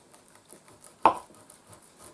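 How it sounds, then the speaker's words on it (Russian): A knife chops raw pork neck into large chunks on a cutting board, giving soft repeated taps and one sharper, louder thud in the middle, close and quiet overall. "Сейчас Маша нарежет."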